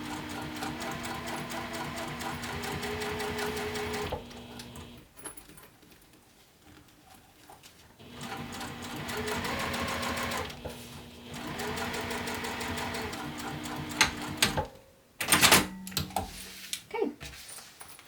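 A sewing machine stitches a bag, basting the lining at 1/8 inch, running in close, steady bursts separated by pauses and handling noises.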